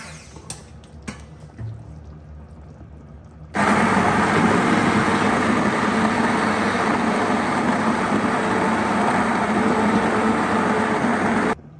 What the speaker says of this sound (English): give that a little blending by hand with the hand blender, immersion blender